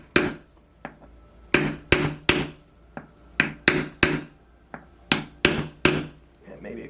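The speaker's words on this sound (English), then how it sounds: "using my piece of wood and my ball peen hammer" A ball peen hammer taps through a wooden block to seat a bearing in a Saito FA-120S model engine, giving about a dozen sharp, close wooden knocks in irregular clusters with short pauses between.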